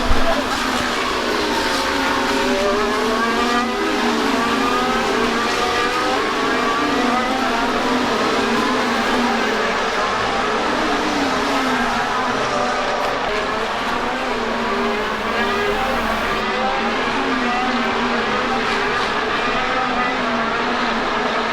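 Race cars pass one after another on a racing circuit in Italy, their engines whining and rising and falling in pitch continuously, loud and sustained, with the overlapping passes heard from trackside.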